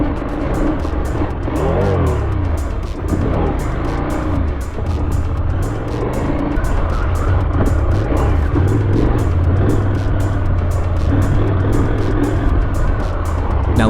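A KTM 890 R motorcycle riding hard on a muddy MX track, its engine droning loudly and continuously up close with rising and falling revs as the throttle is held open.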